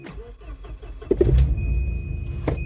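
A 1990 Volvo 245 engine cranks briefly and catches, settling into a steady close idle inside the car after a few quiet clicks and rustles.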